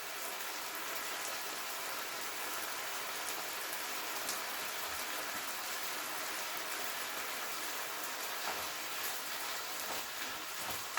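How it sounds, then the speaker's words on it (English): A dense, even hiss of fajita meat frying in a pan over high heat fills the whole stretch, steady and close with no pauses. "Love hearing that sizzle."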